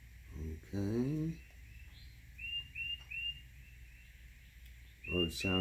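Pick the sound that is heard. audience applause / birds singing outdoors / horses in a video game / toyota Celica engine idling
birds singing outdoors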